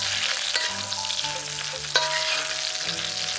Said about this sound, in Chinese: 翻炒一下。